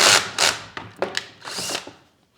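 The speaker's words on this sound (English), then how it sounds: "we'll just go ahead and try and drill through these" Power drill boring through a Jeep JL tailgate, several short high whining bursts with brief pauses, close and fairly loud, then trailing off to quiet.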